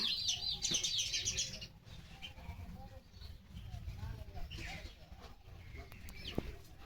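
Sparrows in a home yard with trees chirp in a busy burst of high twittering at first, then sparser calls continue under nearby human speech and background noise.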